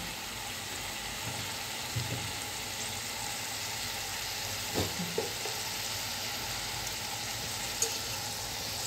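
Spice paste with turmeric and ground chilli fries in oil for village-style fish curry. A soft, steady sizzle carries on throughout, broken by occasional light clacks from stirring.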